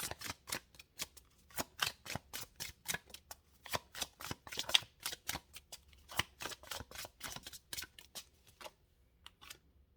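Tarot cards are shuffled by hand in close, rapid, crisp riffling bursts that repeat steadily and rhythmically throughout, with no talking.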